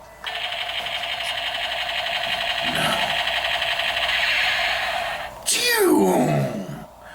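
A Dollar Tree toy Uzi firing its electronic sound effect, a loud buzzing, whirring burst that ends in a sharp descending laser-blast zap, with voices underneath.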